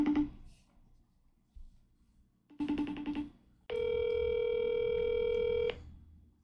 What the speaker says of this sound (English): Dooley, pick up the phone, bro.